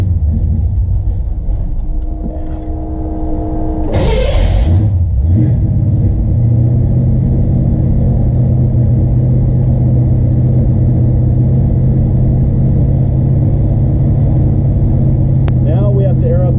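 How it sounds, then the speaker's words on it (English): A carbureted 1972 Chevrolet C10 truck engine cold starts with a short cranking burst that catches into a steady, loud low idle rumble lasting several seconds, close by with some voices in the background. "let's do a little cold start, and bear in mind it's carbureted, it's not fuel injected"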